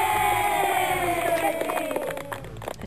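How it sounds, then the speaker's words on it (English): A crowd cheers and yells in a loud burst that tapers off and turns more scattered toward the end. "A cheer for him at home."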